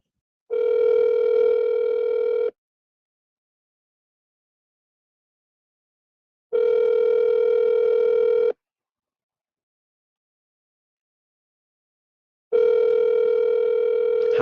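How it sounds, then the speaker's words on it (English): Telephone line tone while calling a phone number: long steady buzzing tones of about two seconds each, repeating every six seconds with silence between, clear and loud with no talk. "All right, I'm calling the next number."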